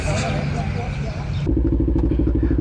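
Group of Yamaha NMAX scooters on a Sunday touring ride, engines droning and rumbling nearby with a steady throbbing, and people talking over them.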